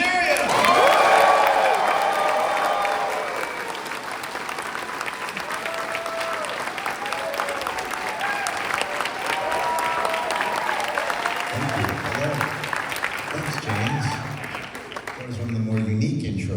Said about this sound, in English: please give a round of applause and a warm welcome to Mr. Hank Azaria